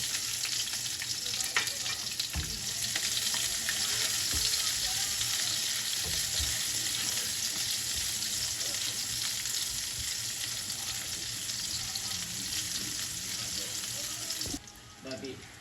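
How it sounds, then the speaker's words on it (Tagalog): Garlic and onion sauté in a hot pan for a fish sarciado, a steady bright sizzle running throughout with occasional spoon scrapes and clinks, fairly close, fading slightly near the end. "At ako po'y magigisa na. Meron akong bawang sibuyas."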